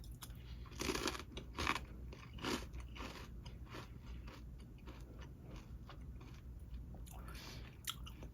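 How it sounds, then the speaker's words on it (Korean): Close crunching bites of a crispy squid-and-peanut snack, loud at first and then settling into steady, quieter chewing. "바삭하게 잘 씹혀요"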